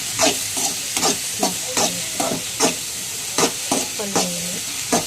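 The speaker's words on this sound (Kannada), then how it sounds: "ಹೀರೆಕಾಯಿ ನೀರು ಬಿಟ್ಕೊಳ್ಳುತ್ತೆ, ಫ್ರೈ ಮಾಡ್ಕೊಳ್ಳಿ" Chopped ridge gourd frying in a pan, with a steady background sizzle punctuated by repeated scraping strokes of a spatula stirring the pieces, close and clear, about a dozen strokes in quick irregular rhythm.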